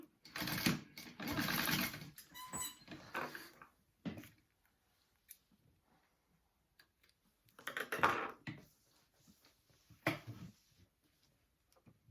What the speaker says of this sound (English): now I'm going to baste these closed